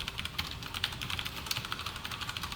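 Keys on a computer keyboard clatter in a quick, steady stream of close, light clicks and taps, alone without any talk.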